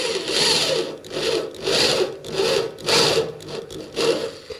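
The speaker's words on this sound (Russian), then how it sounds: "И просверливаю почти на половину толщины металла." A drill bores into steel car-body panel with an 8 mm spot-weld cutter during bodywork repair, giving loud, rasping grinding bursts in a steady rhythm of about one push per second, close up with no talking.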